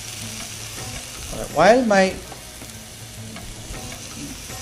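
Beef fillet medallions sizzle steadily in a pan, a constant hiss of frying with a short burst of louder crackle as the meat is moved, while a voice briefly starts to speak.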